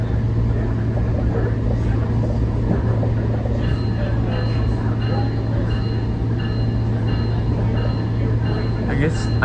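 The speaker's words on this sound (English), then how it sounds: "This train is going fast now because it's a straight trackway." A SMART commuter train on the Sonoma Marin line runs fast along straight track, producing a loud, continuous rumble and rattle with a steady low drone throughout.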